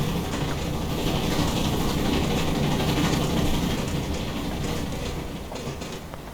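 Steam locomotive chuffing from an LB&SCR L class 4-6-4T Baltic tank engine in a train simulator, heard from outside the cab as a steady mechanical rumble and rattle that softens toward the end.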